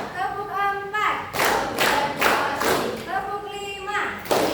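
A group claps in counted bursts during an ice-breaking clap game, with chanting voices over broadband clap strikes, loud and close.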